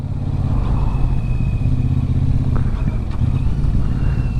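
A Royal Enfield Super Meteor 650 rumbles along in third gear at low speed, a loud, steady, throbbing parallel-twin thrum with some mechanical clatter, heard close up while riding.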